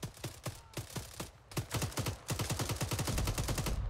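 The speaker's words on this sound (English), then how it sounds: "Where are you being shot at from?" Rapid automatic gunfire in the military video game Arma 3, sharp bursts of shots in quick rhythmic succession, loud and close, growing denser toward the end with no talking.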